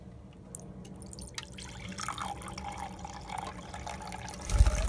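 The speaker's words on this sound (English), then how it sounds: "Now, I'll be dropping about 3/4 of a cup of water." Water being poured into a container for an oil-and-water experiment, a faint trickling and dripping that builds gradually and grows louder toward the end, with no talking.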